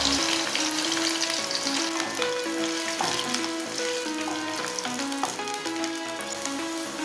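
Green chili, ginger and cashews fry in hot oil for saamai rice pongal, giving a loud continuous sizzle with stirring and small crackles and no talk.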